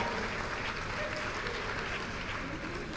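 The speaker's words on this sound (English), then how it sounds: "A round of applause for her." Audience at a realtors and partners conference claps warmly for a few seconds, a continuous, even rattle of many hands in a large room with no talking.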